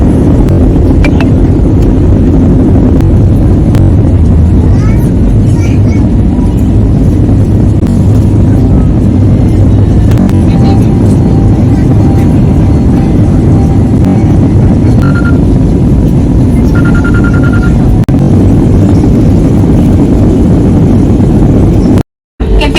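An airplane landing on a runway, heard as a loud, continuous, broadband roar that holds steady throughout and then cuts off abruptly near the end.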